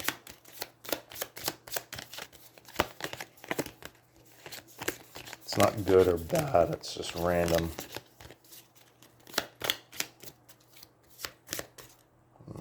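Rapid riffling of playing cards from an Aeons End board game deck repeats in short bursts, close up, with a person briefly speaking in the middle.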